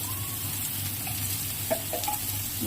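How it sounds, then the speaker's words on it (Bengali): Cumin paste and turmeric spices fry in a pan with a steady, loud hiss of hot oil, broken by a few light stirring clicks and scrapes. "জিরে বাটা একে একে দিয়ে দেবো, এর মধ্যে দিয়ে ভালো করে কষিয়ে নেব।"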